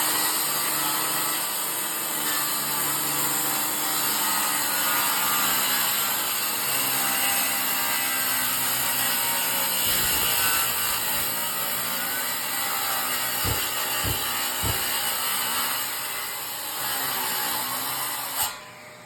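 Saw cutting into a wooden floor near a floor joist during demolition, a continuous close rasping buzz with brief knocks and bumps toward the end before it stops.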